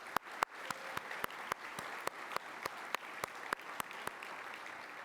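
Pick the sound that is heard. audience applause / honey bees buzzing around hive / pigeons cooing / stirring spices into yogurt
audience applause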